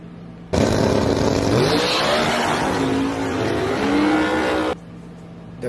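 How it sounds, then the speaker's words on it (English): A nitrous or naturally aspirated drag race car's engine roars loud and close through a big wheel stand, pitch wavering, then cuts off abruptly, leaving a quieter background hum. "The video shows what actually happens when you have a big giant wheel stand and you shut off"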